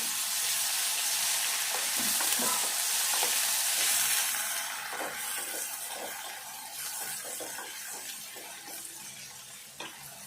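Ginger-garlic paste fries in a pan for a Telangana-style brinjal curry, a loud, dense, continuous hiss that eases slightly partway through, broken by light stirring taps, with no talking.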